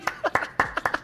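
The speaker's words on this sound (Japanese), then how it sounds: "何の拍手だこれ" Uneven applause from a small group during a studio talk show, about eight sharp claps in a ragged rhythm, near and fairly loud, with no voices over them.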